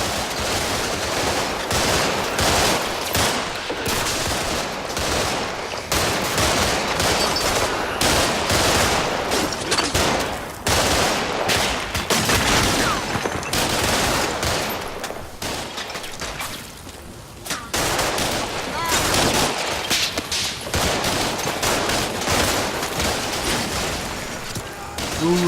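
Gunfire in the war game Combat Mission: Shock Force, dense rattling bursts of automatic weapons and single shots crackling almost nonstop, loud and near, with a few short gaps.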